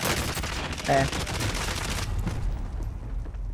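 Rapid bursts of gunfire in a shooting video game, loud and dense through the first two seconds and then fading into a lower rumble, with players briefly talking over it.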